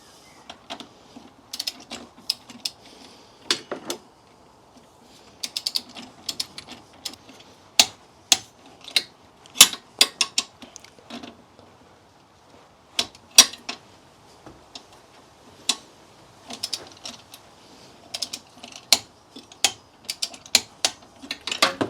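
Ratchet wrench tightening the front shock absorber bolts on a Mk2 Volkswagen Golf, rapid clicking bursts repeating in irregular runs with short pauses, close and crisp in an otherwise quiet space.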